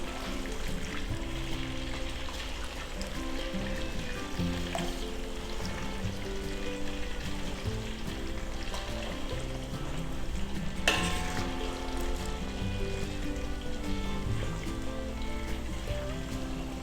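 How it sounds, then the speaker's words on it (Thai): Marinated pork belly frying steadily in oil in a pan over moderate heat, a dense continuous sizzle and crackle, close and even throughout with a brief louder spatter near the middle. "นี่เราจะทอดจนกรอบเหลืองนะครับ"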